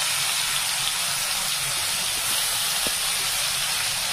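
Ground spice paste hits hot oil already tempered with chili, giving a loud, steady sizzling hiss that fills the whole stretch with little variation.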